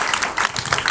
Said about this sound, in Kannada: ಜೋರಾದ ಚಪ್ಪಾಳೆಯೊಂದಿಗೆ ವಿದ್ಯಾರ್ಥಿನಿಗೆ ಅಭಿನಂದಿಸುತ್ತಾ